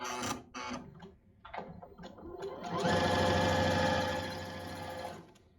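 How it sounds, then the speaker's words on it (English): A few light clicks and shuffles, then a tabletop sewing machine stitching along the edge of a keyring tab runs at a steady, fast mechanical rattle for a couple of seconds before stopping. "I just need to sew along the edge"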